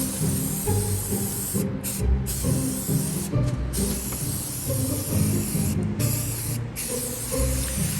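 Spray paint hisses in continuous close mists onto a Halloween skull prop, with several short pauses between bursts.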